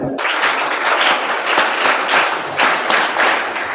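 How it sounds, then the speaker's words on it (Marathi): A school audience of students applauds the president of the Daksh Nagrik Foundation, a dense wash of many hands clapping at once that surges in waves and stays steady for several seconds. "एकदा त्यांच्यासाठी टाळ्या वाजून द्या"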